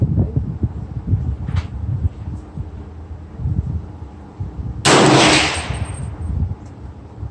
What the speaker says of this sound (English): I'm going to take the shot with Fiocchi SST at 50